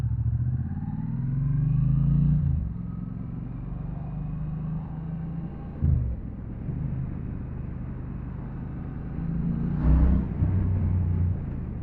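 A Triumph Bonneville T120 motorcycle rides along a road toward a motorway, with a low engine rumble and wind noise, swelling a few times as the bike pulls with torque. Brief clunks punctuate the steady drone.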